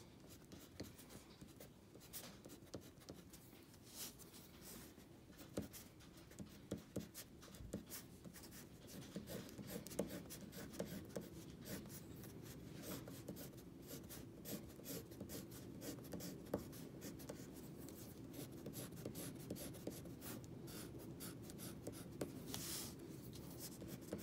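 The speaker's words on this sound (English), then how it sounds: "I'm going to try to go into the spaces that I didn't put blue, but sometimes you might go over the other crayon." A crayon colors on paper in a line cityscape drawing, making quiet continuous scratchy strokes that go on and on in an uneven rhythm, close up and faint.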